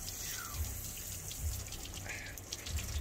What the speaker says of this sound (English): Just gonna give it a little rinse.